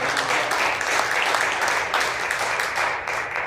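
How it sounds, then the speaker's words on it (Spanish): Congregation at a youth church service applauding for the Lord, a continuous broad wash of clapping that holds steady and fairly loud for several seconds. "Denle un aplauso al Señor"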